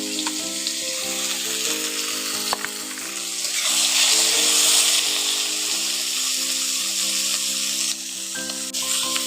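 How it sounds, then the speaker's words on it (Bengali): Young jackfruit and potato pieces sizzle in hot oil, a bright, continuous crackle that swells louder midway as the pan is stirred, with occasional scraping and a steady tonal hum underneath. "এবার ওই তেলের মধ্যে অল্প করে কাঁঠাল আর আলুগুলো দিয়ে দিচ্ছি এখন কিছুটা দিয়ে ভেজে নেব"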